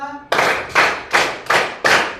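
Five sharp hand claps in a steady counted rhythm, about one every 0.4 seconds, loud and close, from a group clapping exercise.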